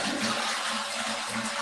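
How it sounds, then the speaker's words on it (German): A black toilet flushing, a steady rushing wash of water with a low gurgling undertone, close and continuous over its whole length, with no talk. "Wie klingt deine Spülung?"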